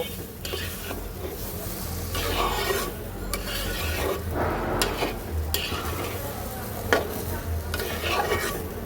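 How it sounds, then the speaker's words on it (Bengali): A spoon scrapes and stirs a mixture of banana flower and prawns in a pan, rough rasping strokes repeating steadily over a low sizzle from the hot pan, close and clear. "এবার সব কিছু একসাথে খুব সুন্দর করে মিক্সড করব"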